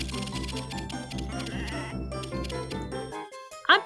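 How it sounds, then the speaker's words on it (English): Cartoonish sheep bleat in a farming video game, a short rising cry near the end after a steady stretch of layered game music that cuts off just before it. "Sheep!"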